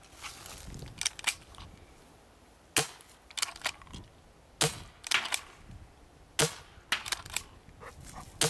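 A CCI Phantom paintball marker firing on a 12-gram CO2 cartridge, sounding as sharp snapping shots, some single and some in quick pairs or triplets, with short quiet gaps between.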